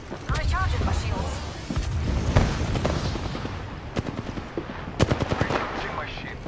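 Video game gunfire rattles in bursts of sharp automatic shots and single cracks, loud and close, with a voice talking throughout.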